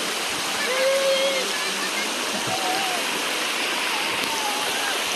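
Bunsuran Falls pours in a steady, broad rushing hiss of falling water, close and continuous, while a voice speaks briefly over it.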